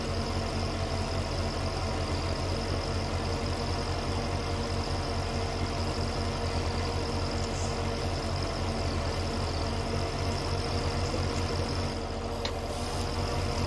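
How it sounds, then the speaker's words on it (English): A tractor engine idles steadily in a cattle yard at a 1962 meadow farm during hay season, a continuous low mechanical hum with no talk over it. "This tractor really does work well as the cattle yard tractor."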